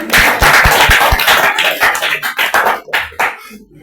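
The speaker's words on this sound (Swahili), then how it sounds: "Unipigie makofi basi." An audience at an evangelist's church gathering claps, starting with several loud sharp claps then settling into irregular, fading applause with scattered individual hand strikes.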